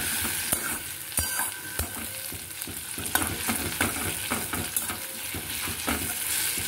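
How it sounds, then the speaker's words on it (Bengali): Onion and tomato sizzle in a hot pan while a metal spatula stirs and scrapes, giving a steady close frying hiss punctuated by irregular scraping clicks. "দেখেছেন তো পেঁয়াজটা কিন্তু আমি খুব লাল লাল করে ভাজিনি, অল্প নরম হওয়া অবধি"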